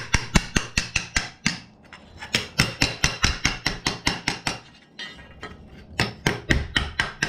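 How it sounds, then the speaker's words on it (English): A hammer strikes sheet metal held cold in a vise to dish it deeper, landing in a fast, steady run of sharp, ringing blows with two brief pauses, close and loud with no talking. "I brought it over here to the vise so I can dish it just a little bit deeper."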